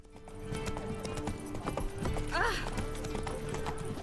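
Horse hooves clip-clop at a steady walking pace through the streets of Novigrad in The Witcher 3 video game, with a brief whinny midway, under ambient city game sound and someone talking.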